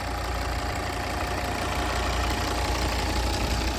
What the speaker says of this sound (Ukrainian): Мотор тут п'ятициліндровий, дуже легендарний мотор, можна сказати.